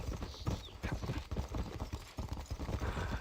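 Horse hooves clip-clop in a steady rhythm across the Red Dead Redemption open-world western game, the repeated thudding steps continuous and fairly close under a faint background bed.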